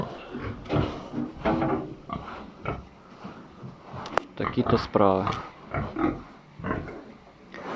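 Pigs kept in a warm shed during a snowstorm grunt and oink repeatedly close by, mixed with someone talking over them, with a short squeal burst midway.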